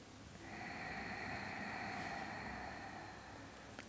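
One long, soft nasal inhalation during a Moksha Kriya yoga breathing exercise, steady and fairly faint against a quiet background hiss.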